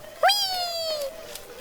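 A cat gives a single clear, drawn-out meow lasting about a second, close and fairly loud, with a faint background hum and no talking.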